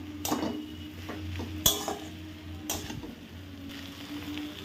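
Fried vegetables being stirred into a dried Bombay duck (loitta shutki) masala in a pan, with quiet scraping and a few metal clinks of the spoon against the pan over a soft background hum.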